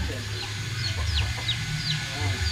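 A laying hen and other chickens cluck softly over a low steady background hum, a few short calls scattered across the moment.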